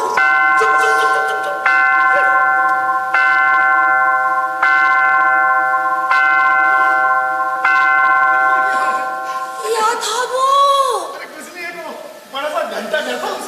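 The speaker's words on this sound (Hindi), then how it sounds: "इतनी प्यारी आवाज है ना घंटा घर की" A clock tower bell strikes repeatedly in a film scene, about six evenly spaced, resonant tolls, loud and near, followed by people talking.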